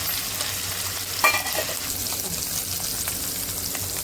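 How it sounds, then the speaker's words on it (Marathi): Pieces of paneer frying in a pan on a gas stove, giving a continuous close sizzle with a brief sharper crackle near the start. "आता आपण ह्यात पनीरचे पीस हे असे ठेवायचे आणि थोडा वेळ आपण याला फ्राय होऊ द्यायचं"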